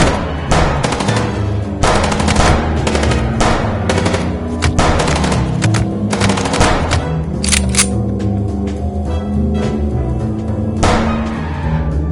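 Gunfire in the Chicken Police video game: loud, close bursts of rapid shots and single cracks, repeated irregularly over a droning engine-like rumble, with no talk.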